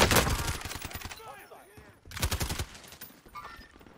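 Rapid bursts of automatic gunfire in Call of Duty: Warzone, a loud rattling volley, a pause, then another burst, with voices talking faintly in between.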